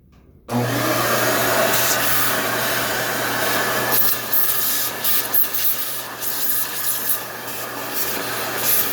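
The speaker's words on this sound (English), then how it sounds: "get my shop vac and I'm gonna suck it all out before I put in the new filter" A shop vac sucks debris out of the air filter box of a 2013 Kia Rio. The motor starts abruptly, then holds a loud, steady whooshing roar with a low hum, and the suction shifts slightly as the nozzle moves.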